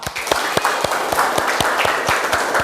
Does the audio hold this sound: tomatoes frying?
no